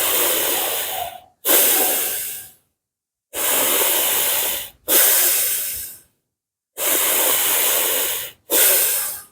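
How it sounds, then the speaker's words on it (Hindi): Slow, deep pranayama breathing repeats three times as a long inhale followed by a long exhale. Each breath is loud, airy and close, with short silent gaps between the cycles. "लंबा सांस को भरना है और धीरे से छोड़ना है।"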